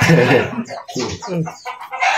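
A chicken clucks loudly and close by in a run of choppy, squawking calls with brief pauses between them.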